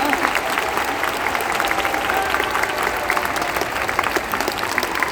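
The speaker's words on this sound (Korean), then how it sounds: "큰 박수 다시 한번 부탁드립니다" A cinema audience at the Busan International Film Festival claps steadily, the applause even and continuous from start to finish without any clear speech.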